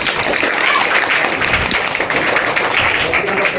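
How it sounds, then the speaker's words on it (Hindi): Schoolchildren applaud at a tree-planting campaign event: a dense, steady burst of clapping from a crowd, loud and close, with some voices mixed into the noise. "इसके लिए एक बार ताली।"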